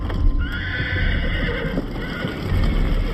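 Horses in a barn neigh in a long, loud whinny, with hoof clip-clops and stamping close by in a busy scene.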